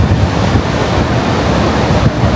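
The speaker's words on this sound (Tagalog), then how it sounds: "ayan na ang hangin na guys" Strong typhoon wind roars into the microphone over a dense wash of crashing waves, loud and continuous with no pauses.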